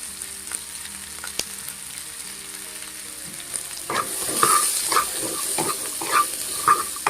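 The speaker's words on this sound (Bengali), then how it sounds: "দিয়ে এটাকে ভালোভাবে ভেজে নেব।" Potatoes and carrots with turmeric and salt fry in a pan for a Bengali village recipe, a quiet steady sizzle that grows louder partway through with scraping stirs, and no voices.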